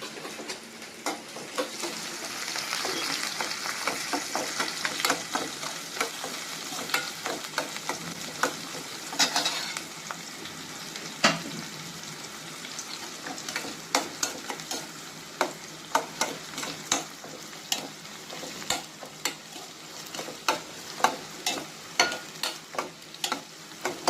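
Onions frying in a pan for pori upma (a puffed-rice upma), giving a steady sizzle with frequent stirring clicks and scrapes of a spoon against the pan, close and continuous with no talk.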